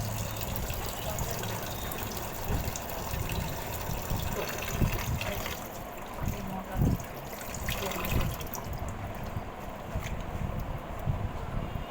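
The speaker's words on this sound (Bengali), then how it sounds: "চলো চালটা আমি ধুয়ে নিই" Rice washed in water in a home kitchen: a continuous close sloshing, gushing wash of water with irregular splashes and swirls throughout.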